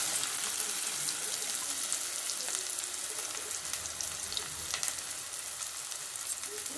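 Onions dropped into hot oil give a continuous, even sizzle with fine crackles, steady and fairly soft, with no talking.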